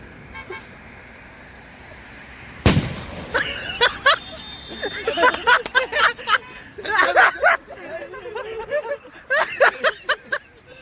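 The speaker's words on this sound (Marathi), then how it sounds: "अरे हा सुतली बॉम्ब आहे." A sutli bomb firecracker goes off with a single sharp, loud bang, followed by excited voices and laughter.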